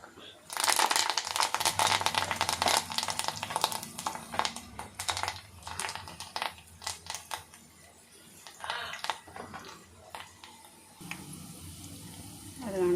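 Curry leaves dropped into hot tempering oil for dal sputter in dense, loud crackles and pops that gradually thin out and quieten over several seconds.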